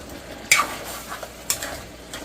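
Pork pochero with tomatoes being stirred in a pan, a spoon scraping the metal in two distinct strokes about a second apart, close and moderately loud over a soft background hiss with no talking.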